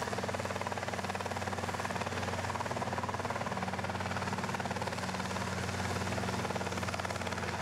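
A Robinson R22 helicopter, bought new in 1996 and flown in New Zealand, gives a steady, unbroken drone of rotor and engine, loud and even throughout with no voices.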